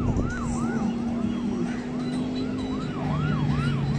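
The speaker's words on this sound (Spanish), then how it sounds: "todavía va hasta allá la ambulancia" An ambulance siren wails at a motorcycle race track at El Jabalí, El Salvador, its rising and falling tone repeating steadily, moderately loud over a constant engine-like hum and outdoor noise.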